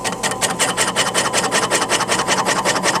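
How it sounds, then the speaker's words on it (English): A fly cutter on a drill press spins against a wooden workpiece while cutting a circle, giving a loud, steady, rapidly pulsing rasp that carries on without a break. "go down slow until that cutter, the fly cutter, just starts touching the wood"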